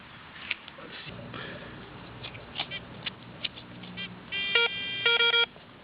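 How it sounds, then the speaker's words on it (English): A Garrett Ace 250 metal detector sounds off outdoors with scattered short chirps and clicks, then a run of steady electronic tones and beeps near the end, set against low background noise. "Let me turn off the detector. It's making weird noises"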